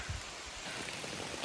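Heavy rain pours down outdoors at a backpacking campsite in Red River Gorge, a dense, even hiss of falling drops heard alone, soft and steady throughout.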